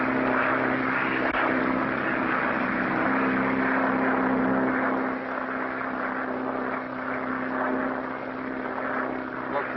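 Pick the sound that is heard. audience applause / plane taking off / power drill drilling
plane taking off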